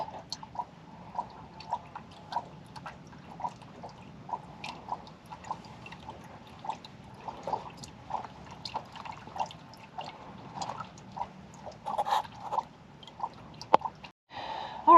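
Water drains and drips steadily from the fuel water separator filter of a CAT 299D3XE compact track loader during service, a quiet rhythm of small drops, ending with a brief handling clatter.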